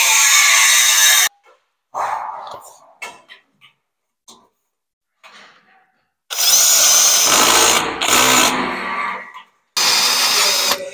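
A power drill drives screws to fasten metal drywall studs together while fitting a plasterboard lining wall around a patio door, heard in several loud bursts separated by quiet gaps and short handling noises.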